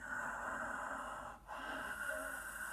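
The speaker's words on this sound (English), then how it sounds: "That raspy, silky, whistling ujjayi breath, victorious breath, seashore breath even." Slow, raspy ujjayi yoga breathing through a narrowed throat with the mouth shut, a steady hushing rush like distant surf with a short pause between breaths.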